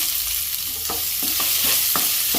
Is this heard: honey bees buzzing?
no